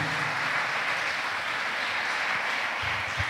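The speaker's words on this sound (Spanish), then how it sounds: "Sí, Señor, denle el aplauso al Señor." A church congregation claps together in a sustained, even round of applause that fills the room, moderately loud, with a few low murmurs near the end.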